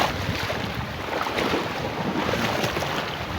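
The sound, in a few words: strong wind at Belitung harbour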